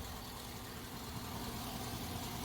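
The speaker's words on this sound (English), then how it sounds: "That's the engine." A truck engine idles with a steady, low, rough rumble, continuous and moderately close, with no one speaking.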